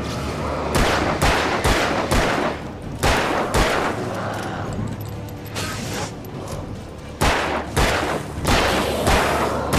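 Pump-action shotgun fire in the survival horror game Alan Wake, a series of loud, booming blasts about a second apart, each trailed by decay and mechanical reload clatter, with short gaps between bursts.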